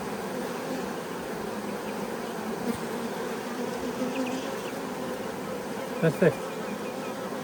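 Honeybees buzz steadily at a hive entrance blocked by dead bees, a dense, close drone with a few louder passing buzzes near the end and a brief spoken word.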